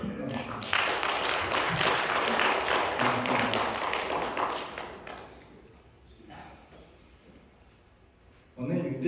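A church congregation applauds warmly for several seconds during a Sunday service, the clapping fading away, followed by quiet and a brief voice at the end.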